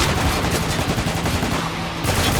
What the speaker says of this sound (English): The rattle of gunfire